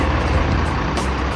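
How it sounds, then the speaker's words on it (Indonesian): A Harapan Jaya intercity bus pulls away toward Surabaya on a busy Monday morning, a close, steady low engine rumble with road noise filling the short stretch. "ini bus Harapan Jaya berangkat menuju arah Surabaya"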